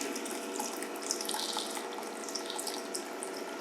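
Water running steadily into sand at an outdoor camp, pooling in low depressions; a continuous bright hissing rush, close and even, with no voices.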